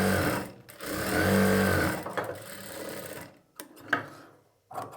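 A sewing machine stitches the lining of a blouse, a close, loud whirring run of rapid stitching for about three seconds that breaks into short stop-start bursts with silent gaps, with no talking.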